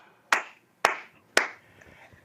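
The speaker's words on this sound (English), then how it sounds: "what the fuck were these people there clapping for?" Three sharp, separate hand claps ring out about half a second apart, each with a short echoing tail, clear and fairly close, followed by faint quieter taps, from an audience at a political event.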